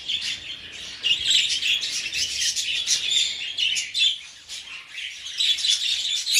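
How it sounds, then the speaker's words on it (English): Many aviary birds, including budgies, cockatiels, lovebirds and parrots, chirp and tweet continuously in a dense, busy chorus with occasional squawks, fairly close and with no talking. "At the moment I have 19 aviaries, and each one has different birds."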